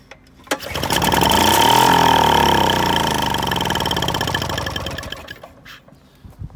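A Victa two-stroke lawn mower engine, primed through the intake manifold, fires on a pull and runs with a loud, buzzy, steady roar for several seconds before cutting out.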